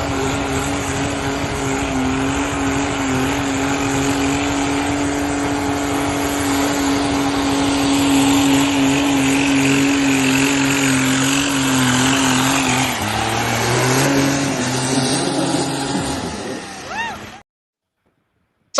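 Diesel garden tractor at a tractor pull, its engine droning loud and steady for a long pull, the pitch rising then shifting near the end before cutting off abruptly; an announcer's voice may be present.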